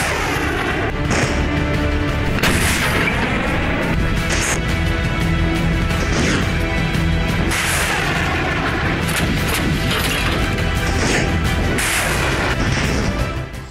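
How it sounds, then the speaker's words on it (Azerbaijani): Multiple rocket launchers and artillery fire during a military training exercise, a dense, continuous roar of loud booms and blasts that fills the whole stretch without pause before cutting off at the end. "reaktiv yaylım atəşi sistemi və artilleriya qurğularından döyüş açışlarını icra ediblər"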